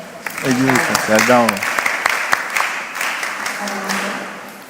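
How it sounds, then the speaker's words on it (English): Participants in a mentorship session give a round of applause, a moderate spread of clapping heard beneath and between a few voices talking over it. "You give it as a clap for her."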